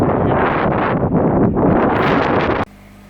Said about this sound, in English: you can tell it was pretty flaming windy